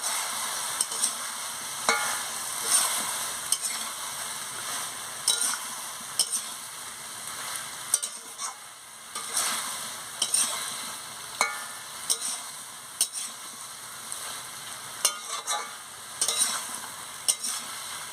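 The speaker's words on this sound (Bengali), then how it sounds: "এবারে আমি চাপাটা খুলে ভালো করে আনাজটাকে নাড়িয়ে নিচ্ছি।" Pumpkin and vegetables stirred in a pan, first with the lid off, make a gentle sizzle under repeated scraping and clinking strokes of a spatula, at a fairly regular pace and close by, with no voices.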